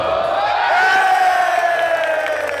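A packed London RLCS Rocket League esports arena crowd roars in loud, sustained cheering and whooping with rising voices, filling the space continuously throughout.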